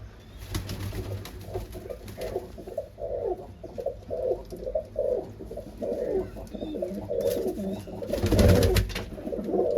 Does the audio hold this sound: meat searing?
no